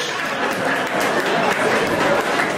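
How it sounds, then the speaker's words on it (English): An audience at a party event breaks into a short burst of steady clapping, loud and dense with some crowd noise underneath. "Give him a round of applause."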